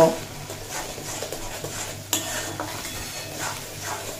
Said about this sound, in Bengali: এরপর যে মশলাটা আমি বেটে রেখেছিলাম সেটা দিয়ে দেব। দিয়ে খুব ভালোভাবে কষিয়ে নেব।